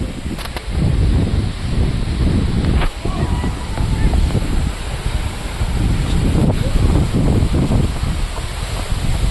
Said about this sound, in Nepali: यस्तो मिठो हावा लागेछ कि